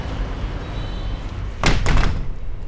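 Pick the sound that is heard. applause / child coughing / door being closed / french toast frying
door being closed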